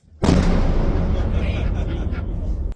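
A controlled explosive detonation during military field training: a sudden loud blast followed by a long, dense rumbling roar that holds steady for over two seconds, close and powerful.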